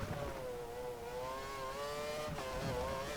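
A Formula 1 car's engine in the racing game F1 2013 winds up steadily on corner exit at the Estoril circuit, a continuous high rising whine with smooth gear-driven pitch climbs, loud and close throughout.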